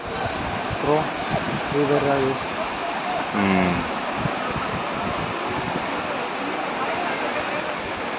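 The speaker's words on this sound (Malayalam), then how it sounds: "ചെറിയ ചെറിയ വെള്ളച്ചാട്ടങ്ങളുണ്ട് അങ്ങോട്ട്" Steady broadband rush of the Anachadikuthu waterfall in Kerala, loud and continuous throughout, with people talking over it during the first few seconds.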